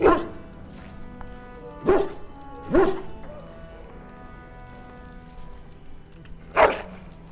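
Mabari war dog from Dragon Age: Origins, reskinned as a St. Bernard, barking in a few single woofs spaced irregularly over a quiet game backdrop.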